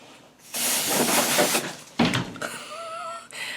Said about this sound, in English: I use it every time I need to, but you just spray.